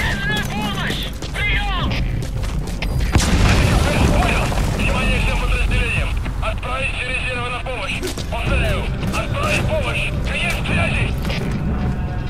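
Booming explosions from Metal Gear Solid V: The Phantom Pain gameplay on PS4, continuous and loud, layered with rumbling game effects and mechanical clatter while someone talks excitedly over them throughout.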